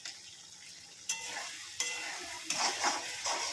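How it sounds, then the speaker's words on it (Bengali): Kashmiri chili powder goes into a frying pan of vegetarian curry, sizzling steadily with three sharper bursts of frying and stirring as it is added, close and fairly loud with no talking. "এরপর সামান্য লঙ্কা গুঁড়ো দিয়ে দেবো, এটা কাশ্মীরি লঙ্কা"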